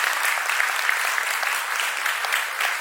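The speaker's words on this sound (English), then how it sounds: "So let's give a round of applause for being here." A gala audience at an awards show gives a round of applause, dense continuous clapping from many hands that stays full and even throughout.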